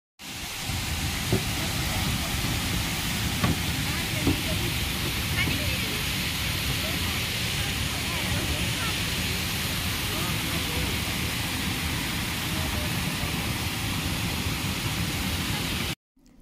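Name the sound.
flowing water and outdoor nature sounds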